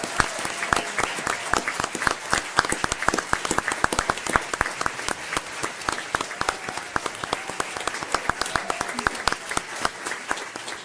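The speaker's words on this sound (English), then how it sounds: "let's give them a round of applause, please." Sustained audience applause at a school board meeting for a 2016-2017 championship team, many sharp claps blending into a continuous, fairly loud ovation that carries on steadily.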